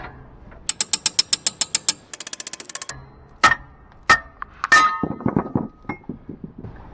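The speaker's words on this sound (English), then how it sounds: "I'm just gonna see if I can pry the spring up" A spring is pried off its centering pin during repair work on a K5 Blazer, producing close, loud rapid ratcheting clicks, then sharp metallic clinks and scraping knocks.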